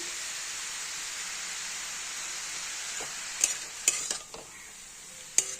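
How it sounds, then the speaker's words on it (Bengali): Cabbage is stirred with salt in a frying pan, giving a steady close sizzle with several sharp scraping clicks of the spatula toward the end. "কপির সাথে ভালো করে লবণটা মিশিয়ে"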